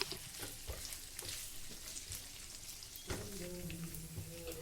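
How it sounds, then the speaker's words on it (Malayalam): Fish pieces fry in shallow oil in a pan as they are turned, making a quiet, continuous crackling sizzle with occasional soft clinks. "ഇതുപോലെ തിരിച്ചും മറിച്ചും ഒക്കെ ഇട്ട് ഫ്രൈ ആകാത്ത ഭാഗങ്ങൾ ഒന്ന് മൊരിയിച്ചെടുത്താൽ മതി"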